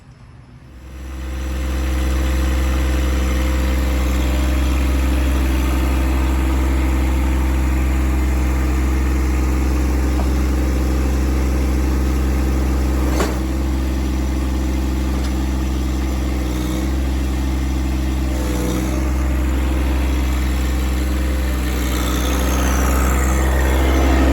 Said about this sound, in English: here I'm just kind of showing the tractor going back and forth on the yard